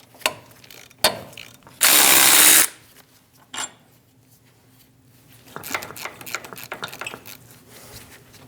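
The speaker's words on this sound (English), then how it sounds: "Using a 15mm socket, we're going to remove the 4 bolts for the wheel bearing." A power tool with a 15mm socket buzzes in a short loud burst amid clanks and ratcheting clicks, removing wheel bearing bolts on a 2001-2006 Chevrolet Silverado 2500 HD, followed by scattered metallic taps and rattles.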